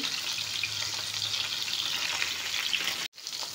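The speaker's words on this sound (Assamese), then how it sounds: "এয়া মাছখিনি এফাল সিজিবলৈ দি দিছোঁ।" Fish pieces sizzling in a frying pan, a dense, steady close hiss of hot oil that cuts out abruptly for a moment near the end before resuming, with no one speaking.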